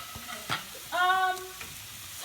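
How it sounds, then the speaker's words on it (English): Mushrooms frying in a pan while chicken parmesan is being cooked, a soft steady sizzle with a couple of brief stirring scrapes and a louder burst of frying partway through. "So those mushrooms are cooking."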